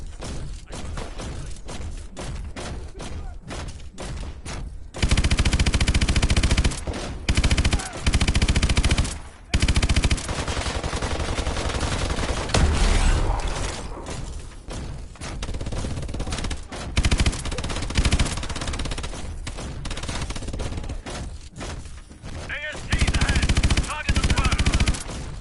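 Heavy main gun on a vehicle firing in Call of Duty Advanced Warfare, loud sustained bursts of rapid fire with brief gaps, mixed with game effects and faint voice lines.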